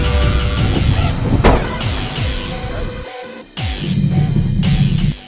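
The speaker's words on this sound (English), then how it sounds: "for a split second, I drove on 2 wheels" A stunt car driven on two wheels roars close by with a revving engine and screeching tyres. A brief dropout comes near the middle before the engine drone returns.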